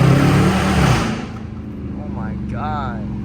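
A Dodge Charger R/T pulls hard in first gear through rush-hour traffic. A loud, close engine roar fades after about a second into a steadier drone, with a short vocal exclamation near the end.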